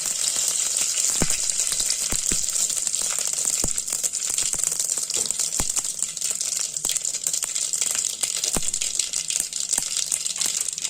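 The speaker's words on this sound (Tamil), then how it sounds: "கடுகு நல்லா பொரியட்டும் படப்படன்னு பொரிஞ்சால் தான் நல்லாயிருக்கும்" Continuous hot-oil sizzle with scattered sharp pops and crackles, like mustard seeds spluttering in a pan, steady and close with no talking.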